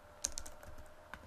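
Code being typed on a computer keyboard for a beginner C# login-system program: a few quick, faint key clicks close by, no talk.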